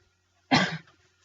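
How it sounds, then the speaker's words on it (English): A single short cough, close and clear, in an otherwise quiet room. "still got a cough"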